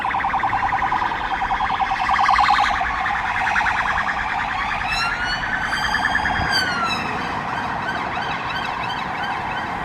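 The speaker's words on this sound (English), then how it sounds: "sometimes you get a shot of speeding police cars" Police car sirens wail loudly and continuously as the cars speed through a city centre, the pitch sweeping up and down with overlapping tones and steady roaring traffic beneath.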